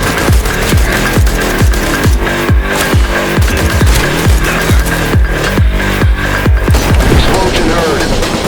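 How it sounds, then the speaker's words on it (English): Repeated explosion sound effect, a rapid run of deep booming thuds in a steady rhythm, loud and close, layered with dense action noise. "Explosion heard."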